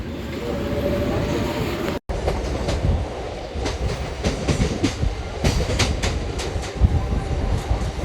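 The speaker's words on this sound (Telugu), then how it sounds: "కంటకాపల్లి నుంచి కూడా ట్రైన్ బయలుదేరిపోయింది." A MEMU passenger train rolls along the rails between small stations near Kantakapalli, a continuous close rumble with rhythmic clickety-clack wheel beats and occasional sharper knocks, no one speaking.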